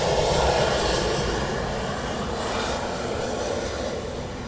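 Two Eurofighter Typhoon jets taxi toward the runway at RAF Coningsby, a steady, loud engine roar and whine holding throughout, close by and unbroken, with no talk over it.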